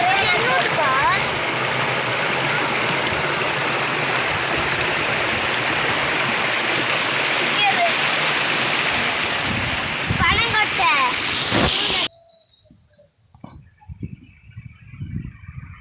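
Rainwater overflows in a steady, loud rush and pours down like a waterfall, with splashing close by. The roar cuts off abruptly near the end, leaving faint background sounds.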